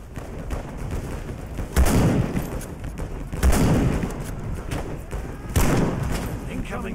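Rifle gunfire in the WWI trench shooter Over The Top, with a few heavy thumping shots spaced a couple of seconds apart over a steady noisy battlefield background, with some voice activity.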